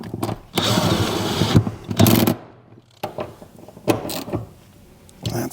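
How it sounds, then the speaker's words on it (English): A ratchet or power driver runs bolts down on a Toyota Tacoma seat mount, giving sustained close whirring and clicking bursts with short pauses between them. "Just going to run these down and then I'll hit them with the ratchet again."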